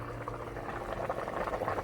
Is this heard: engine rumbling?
no